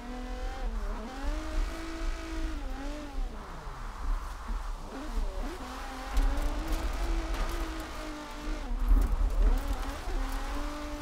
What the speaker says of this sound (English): I'm just doing donuts here on the mountain